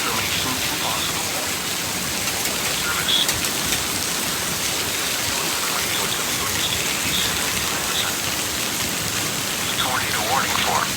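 Severe thunderstorm with heavy rain pouring steadily and hail, loud and dense throughout with a faint rumble of thunder beneath; no talk over the downpour.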